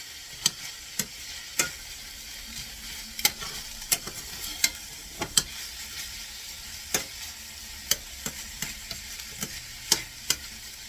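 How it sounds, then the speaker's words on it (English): Onions sautéing in a pan for a cheesesteak pizza sauce with garlic and Parmesan: a steady, fairly quiet sizzle with regular stirring scrapes and sharp clicks of a utensil against the pan, no voices. "You just saute your onion as long as you wish."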